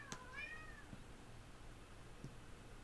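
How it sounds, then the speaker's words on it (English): A kitten meows somewhere inside a house, one faint, slightly distant, drawn-out meow followed by a couple of brief softer sounds in a quiet room. "I've got a very loud kitten somewhere in this house."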